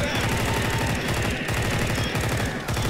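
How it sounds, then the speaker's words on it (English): Rapid, continuous automatic gunfire in Left 4 Dead 2, loud and close, with rhythmic repeating shots running unbroken for the whole stretch. "Bro, how many times do I have to shoot this guy?"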